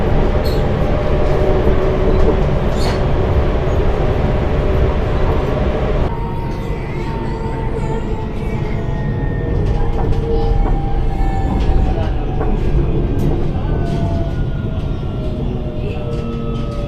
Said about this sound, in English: there's also a separate tram train system. This system runs on tramway voltage and has taken over a former railway route